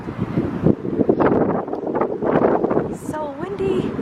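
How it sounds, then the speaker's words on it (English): Strong outdoor wind buffets the microphone in loud, rumbling gusts near trees in the evening, with a voice speaking briefly over the roar. "So windy."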